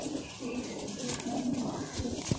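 Pigeons of a high flyer breed coo softly at a pigeon club, low murmuring calls repeating through a steady background hum, fairly close and moderately quiet.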